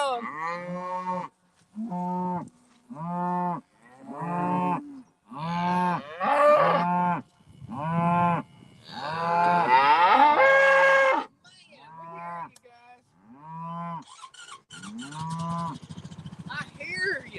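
Cattle on a farm moo repeatedly before feeding, a steady series of loud, close calls with short pauses between them, some overlapping into longer bellows.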